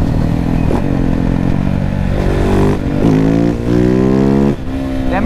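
A KTM 690 SMC R single-cylinder motorcycle engine revs hard under throttle while lifting into a wheelie, its pitch climbing and dropping in loud, close surges with a brief cut near the end.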